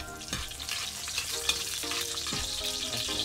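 Garlic or onion fries in a pan, giving a continuous bright crackling sizzle with scattered louder pops and stirring scrapes, close and steady throughout.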